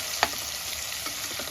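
Potatoes fry in oil in a home kitchen, a steady close sizzle and crackle with a single sharp pop early on and faint stirring clatter.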